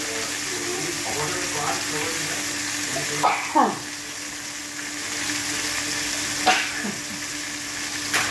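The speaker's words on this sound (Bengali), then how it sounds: "কাঁচা লঙ্কা ছেড়ে দিয়ে দিচ্ছি, লম্বা করে কেটে, ডালের স্বাদ বাড়বে।" Green chillies, slit lengthwise, fry with cauliflower in a pan, giving a loud, steady sizzle broken by a couple of brief scraping clatters.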